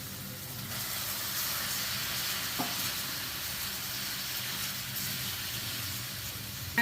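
Chicken mince sautéing in a pan gives a steady, close sizzle and hiss that holds throughout, with a small clink partway, and no voices.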